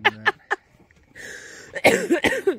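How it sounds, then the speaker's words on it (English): Several sharp coughs from a nearby person, three short bursts in quick succession, followed after a pause by a noisy stretch and rougher voiced coughing or throat sounds. "I still have a cough."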